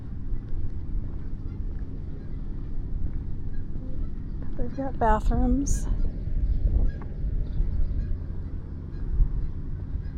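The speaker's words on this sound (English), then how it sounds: "Enjoy the birds. Some ducks out there on the water." Ducks on the open water of Lake Elsinore on a quiet afternoon give a brief cluster of honking calls midway, set against steady wind and low outdoor rumble, while a person speaks briefly nearby.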